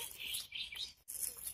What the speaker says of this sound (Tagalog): puni ng ibon. Maririnig namin dito.